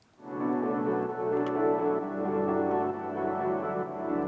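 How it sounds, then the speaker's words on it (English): A sustained ambient synth pad in a music production swells in and holds a thick, continuous chord with a soft, shifting low end, steady and fairly loud with no drums or voice. "So what happened there is I added this kind of ambient pad."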